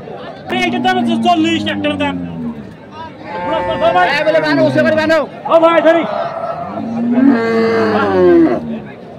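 Cattle, Sahiwal and crossbred bulls at a cattle market in Shariatpur, Bangladesh, moo in several long, loud, close calls one after another, with faint crowd chatter in the background.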